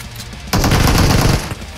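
Loud, sustained burst of automatic gunfire from a PUBG Mobile match, opening after a half-second of lower background and rattling steadily for about a second before tailing off.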